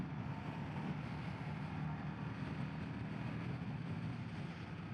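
A 2025 Indian Sport Scout Limited motorcycle engine drones steadily at speed, a low continuous rumble buried in heavy wind rush, quiet and unbroken throughout.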